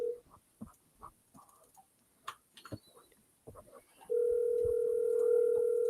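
On an outgoing telephone call, faint clicks and small noises are followed by a loud steady dial or ringback tone that holds to the end.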